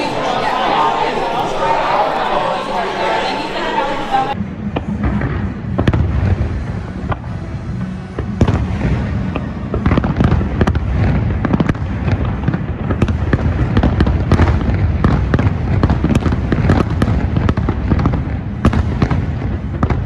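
Fireworks at Disney's Magic Kingdom burst in quick, irregular succession of crackling pops and thuds against the steady murmur of a crowd, after a brief stretch of chatter, for about twenty seconds.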